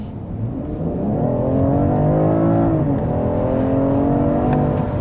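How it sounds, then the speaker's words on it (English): A 2021 BMW 545e M Sport plug-in hybrid accelerates hard in sports mode with combustion engine and electric drive combined, its engine note rising steadily in pitch, loud and sustained from inside the car, with no talk. "let me show you an acceleration sports mode. So both powers combined,"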